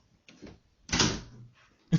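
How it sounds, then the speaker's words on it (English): Close by, a door is pushed shut, with a handle rattle, a broad thud as it closes, and a final click of the latch. "Let me close this door."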